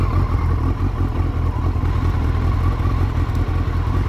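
Suzuki GSX1300R Hayabusa motorcycle engine idling in neutral with the clutch lever pulled in, a steady close low rumble with even mechanical clatter and no change in tone throughout.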